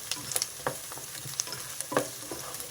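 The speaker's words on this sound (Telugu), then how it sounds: "కొంచెం ఆనియన్స్ వేగిన తర్వాత గార్లిక్ వేసా ఇవి రెండు బాగా వేపుకోవాలి ఎర్రగా రావాలి ఉల్లిపాయలు" Onions and garlic fry in hot oil as a spatula stirs them, a close, steady sizzle broken by quick scraping clicks and taps against the pan, with no voices.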